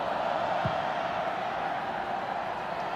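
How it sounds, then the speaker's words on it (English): Brazilian fans cheering through the crowd noise of a women's international friendly against Australia: a steady, broad roar of spectators with no clear peaks, holding constant for the whole stretch. "Brazilians cheering every pass at the moment"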